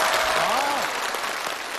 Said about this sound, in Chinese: 掌声响起